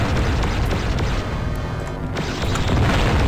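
A rumbling, booming explosion from the player's own shot in the 1990s video game Descent fills the whole moment, a dense continuous roar with a brief dip and a renewed swell near the end.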